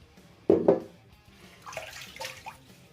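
Water splashes from a bathroom tap while a face is wetted before a shave, two sharp splashes near the start followed by softer trickling and dabbing, close and moderately quiet.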